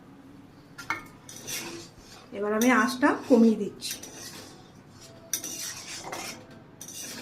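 A spoon scrapes and clinks against a metal kadai while crushed biscuits are stirred for halwa, a burst of busy metallic scraping in the middle with a person talking before and after.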